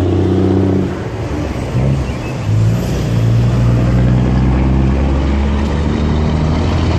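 A large bus drives past nearby on a road, its engine a loud, sustained low rumble with shifting tones as it passes, with no voices.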